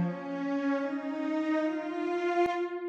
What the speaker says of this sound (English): So this cello sounds like this.